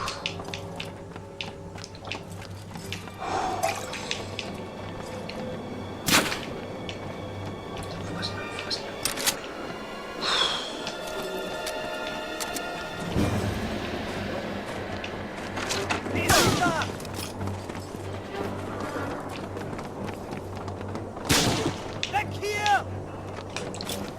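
Gunfire in the video game Medal of Honor: Frontline, sharp shots and bursts scattered across the stretch with mechanical clicks and reloads, under near-constant talk from a player.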